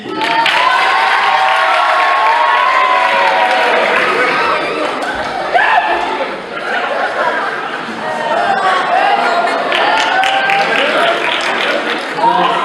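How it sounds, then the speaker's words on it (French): Audience applause and cheering at a club's slam poetry evening: a loud, sustained wash of clapping and crowd chatter with occasional whoops and laughter, steady throughout. "On peut l'applaudir."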